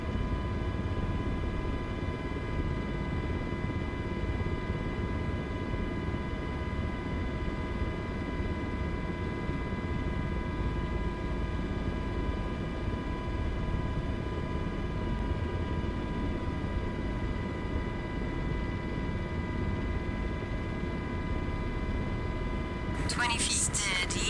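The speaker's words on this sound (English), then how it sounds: "You'll notice the helicopter starts climbing again." An MH60 helicopter in a flight simulator video game hovers and climbs, giving a steady, loud drone of turbine whine and rotor hum that holds unchanged for the whole stretch.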